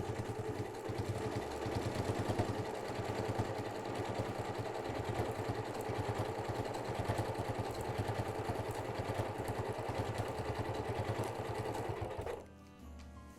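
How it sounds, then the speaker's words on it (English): A Continental M8 sewing machine runs a steady serpentine stitch around the binding of a washable cookie tray, its motor humming with a rapid, even clatter for about twelve seconds before stopping abruptly. "the serpentine stitch stitches my binding perfectly flat all the way around"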